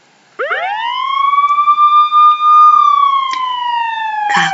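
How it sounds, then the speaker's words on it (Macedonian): An emergency vehicle siren swoops up sharply, then holds a loud, sustained wailing tone that sags slightly at the end, close and alone, with a couple of brief clicks. "Какви чувства ни буди оваа сирена?"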